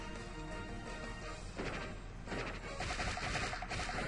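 In Pokémon X and Y, Strength slams into a horde of wild Pokémon in a battle, producing a quiet series of crashing, rattling impacts that build and continue over a busy game-music background.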